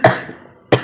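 Two sharp, loud coughs sound close by, one right at the start and another a moment later, with a short quiet gap between them.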